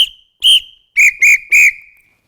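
A samba apito whistle gives a short sequence of sharp blasts, the later ones dropping to a lower pitch as the side holes are closed, close and loud with brief gaps between.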